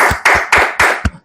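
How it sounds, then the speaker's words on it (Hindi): Quick, close handclaps from an audience at an informal discussion gathering in Nalasopara: about five sharp claps in an even rhythm, loud and with no talking. "एक बार ताली बजाइए"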